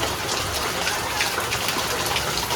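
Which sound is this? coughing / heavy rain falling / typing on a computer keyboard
heavy rain falling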